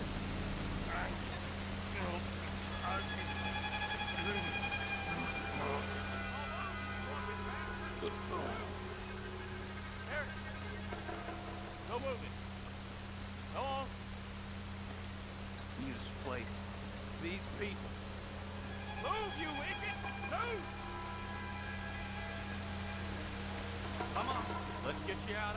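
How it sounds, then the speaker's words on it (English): Steady rainfall in the Western video game Red Dead Redemption 2, a constant hiss of rain under scattered game sounds and low hum, with someone speaking intermittently over it. "Rain is making it hard."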